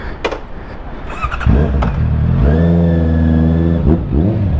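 A Honda CB650R motorcycle engine blips a few times, then revs up into a sustained loud whine before dropping back, close by.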